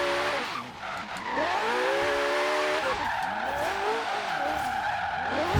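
A car drifts in a video game race, its tyres squealing in long wavering whines over a steady engine drone, the squeal rising and falling repeatedly and heard close with no talk.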